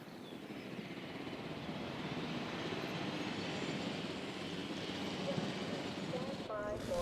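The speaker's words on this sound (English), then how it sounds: "Stand by for helicopter arrival." In the Jurassic World Evolution game, a helicopter arrives as a steady, moderately loud rotor and engine drone that holds throughout, with a faint burst of rising tones near the end.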